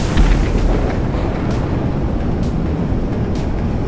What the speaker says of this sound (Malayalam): Flare drop.